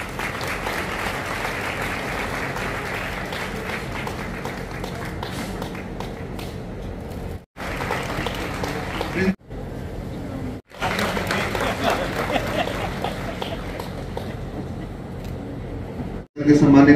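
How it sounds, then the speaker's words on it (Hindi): An audience at a school event in Mahendergarh applauds to honour the local MLA, dense sustained clapping from a sizable crowd broken by a few brief cuts, with some voices mixed in. "एक बार जोरदार तालियां बजा के सम्मान करें।"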